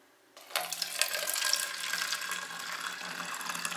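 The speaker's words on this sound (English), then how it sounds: "We're going to put the water in first" Water, 13 ounces, pours into a spray bottle for a homemade Dawn powerwash refill, a close splashing stream that starts abruptly and runs steadily with light rattling clicks.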